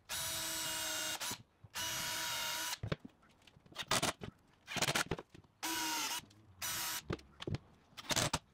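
Power drill driving screws through the back into sculpted wooden handles on a vanity, heard in several loud whirring bursts of a second or two each, separated by brief pauses and short ratcheting clicks.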